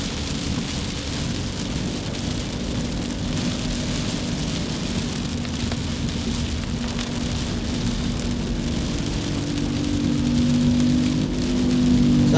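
Steady, heavy rain pours down on a city street between Makati and Intramuros in Manila, a dense, unbroken hiss that swells slightly near the end, with faint traffic beneath.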